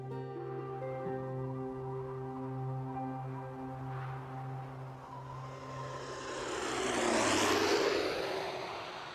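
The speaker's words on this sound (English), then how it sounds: "My plane touches down on a 4-mile-long windswept strip of land known as Barter Island" Propeller plane touching down on a long, windswept Arctic airstrip on Barter Island by the Beaufort Sea, its steady engine drone shifting and swelling into a louder rushing roar near the end, heard without any voices.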